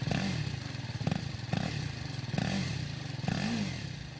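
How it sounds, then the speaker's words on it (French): Exhaust of a small BMW G310 single-cylinder motorcycle, a close, low, throbbing note rising and falling in repeated blips of throttle, with no talking. "la sonorité du pot d'échappement ne trompe personne."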